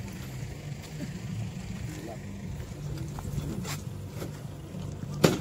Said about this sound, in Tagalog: Bangka yata yan ah